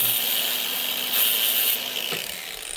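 An angle grinder whines with a harsh high-pitched hiss as it cuts through a loaf of black bread, with a brief bump partway before the noise eases slightly.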